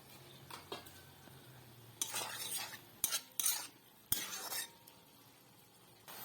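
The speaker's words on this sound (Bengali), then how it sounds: "এবার আবারও ভালোভাবে নাড়াচাড়া করে নেবে" Pui shak curry in a pan is stirred after uncovering, giving several bursts of scraping and spoon clatter against the pan over a faint low simmer, with sharp metallic knocks between the strokes.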